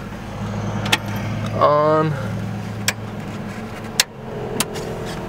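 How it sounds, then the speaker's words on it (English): A car engine starts with a push-to-start button: a brief rising whine of cranking, then a steady low idle rumble. It is moderately close, with a few clicks and short spoken words around it. "So this car has a pretty sick startup."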